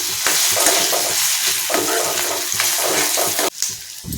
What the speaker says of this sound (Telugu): అల్లం వెల్లుల్లి పేస్ట్ పచ్చివాసన పోయేదాకా వేపించుకోవాలండి